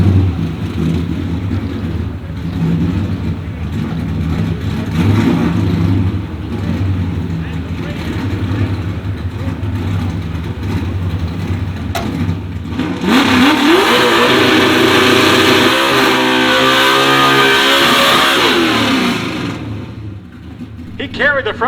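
A drag car with a stock Ford 4.6L 2-valve V8 and four-speed accelerates down a quarter-mile strip, a loud engine roar surging through gear shifts while an announcer talks over it.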